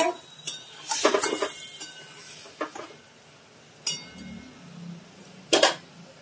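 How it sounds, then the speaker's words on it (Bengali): A spatula scrapes and clinks against a pan while vegetables are sautéed with cumin powder, salt and turmeric, giving scattered metallic taps and soft stirring noise, close and fairly quiet with no talk. "এটা কষিয়ে নিচ্ছি ভালো করে।"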